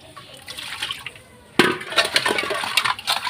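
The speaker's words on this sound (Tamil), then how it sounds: "நான் தண்ணி ஊற்றி காமிக்கிறேன்." Water is poured onto an aluminium vessel, starting abruptly after a quieter stretch of light rubbing and continuing as a close, splashing gush with metallic ringing.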